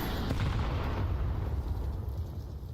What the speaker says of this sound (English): Couple pops of the P250 upside Yekindar's head.